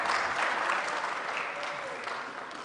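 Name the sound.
concert audience applause for a choir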